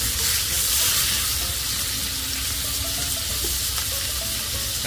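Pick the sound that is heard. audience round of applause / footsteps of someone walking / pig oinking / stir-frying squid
stir-frying squid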